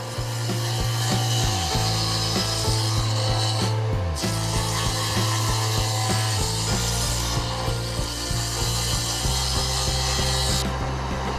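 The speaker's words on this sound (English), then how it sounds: "I set the dado stack to 3/8 of an inch" A dado stack set to 3/8 inch cuts grooves into wood boards, giving a sustained loud whining hum with a raspy grinding edge that shifts pitch a few times as the cut progresses.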